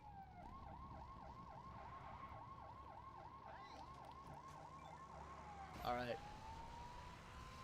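A police car siren in the video game LEGO City Undercover wails up and down in a steady repeating cycle for several seconds. It is followed by a brief louder burst, with a voice speaking briefly.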